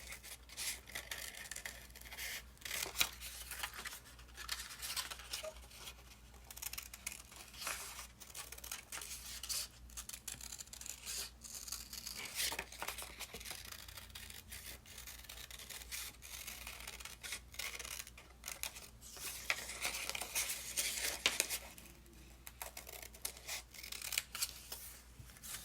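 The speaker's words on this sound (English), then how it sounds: "That way I think it's easier to do, to cut out the piece. So cut along the line." Scissors cut out a paper piece along a line in a continuous series of crisp snips and paper rustles, close and fairly quiet, with no one speaking.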